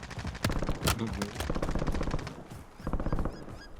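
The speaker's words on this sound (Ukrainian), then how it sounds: "Хтось стріляє" Rapid bursts of gunfire crackle in quick succession in the video game Warzone, with sharp automatic volleys and scattered shots, loud and close, against a busy background.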